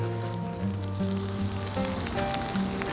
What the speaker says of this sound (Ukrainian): Тепер додаємо нашу обсмажену цибульку, підсолюємо